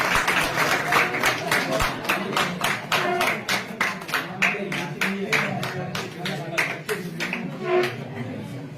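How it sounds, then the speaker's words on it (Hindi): Audience at a political gathering in R S Pura claps in rapid rhythmic bursts, close and loud, with a voice speaking over the clapping. "तालियां बजाओ।"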